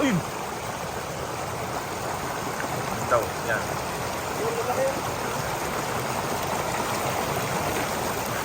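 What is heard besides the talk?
fast-flowing river current at night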